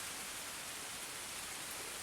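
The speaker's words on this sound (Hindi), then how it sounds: "गुफा के अंदर, जहाँ इस समय झमाझम बारिश हो रही है" Heavy rain pours outside a cave, heard from inside as a steady, dense hiss of falling water with no breaks or voices, soft and somewhat distant.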